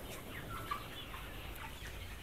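Broiler chickens over 50 days old inside a poultry house give faint, scattered clucks over a constant low ventilation hum, distant and quiet.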